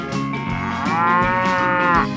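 A cow moos once, long and drawn out, close and loud, in a 3D animal slide video game.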